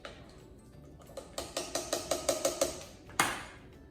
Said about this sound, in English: Mix those cranberries up.